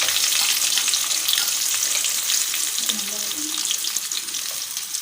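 Onions with curry leaves and fenugreek seeds sautéing in oil for a spicy tamarind curry: a strong close sizzle that stays steady, softening slightly toward the end, with a brief faint voice-like murmur in the middle.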